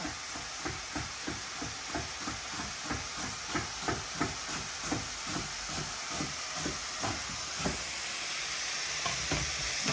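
Garlic sizzles steadily in a hot pan, a constant frying hiss broken by regular rhythmic scrapes of stirring, close and fairly loud.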